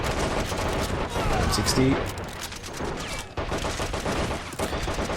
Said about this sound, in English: The MGs have to be firing.